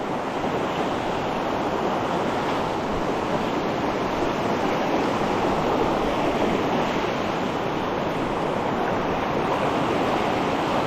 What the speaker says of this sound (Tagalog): Laka ng baha mga kautol.